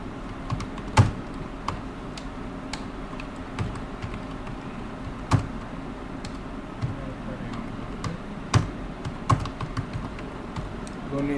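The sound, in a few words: typing a name on a computer keyboard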